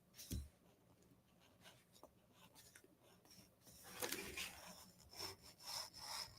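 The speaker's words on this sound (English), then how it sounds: "I'm going to just take an eraser over the edges to make sure that you can't see" An eraser is rubbed over the cut paper edges of a craft envelope template. Quiet, close, scratchy rubbing strokes come and go in short uneven bursts.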